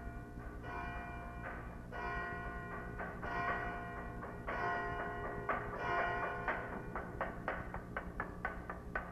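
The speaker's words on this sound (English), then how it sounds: "First, bells indicate a service will soon begin." Monastery church bells on Mount Athos ring to call monks to a service, sounding as a series of loud, layered bronze strikes with long ringing overtones that overlap in a steady rhythm, with no voices.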